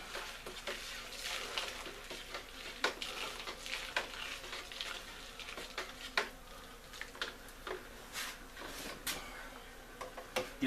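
Beer wort is stirred in a pot chilled with ice on brew day, giving a continuous close swishing and sloshing with scattered sharp clinks and taps throughout.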